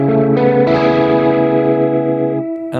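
Guitar through an Axe-Fx II rotary effect with rotor length around 70, a loud, close chord pulsing with a fast swirling modulation, re-struck twice and sustained before fading out.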